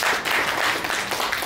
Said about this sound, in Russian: давайте аплодисменты немножко поярче сами себе